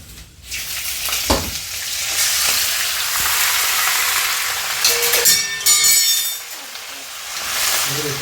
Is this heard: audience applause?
no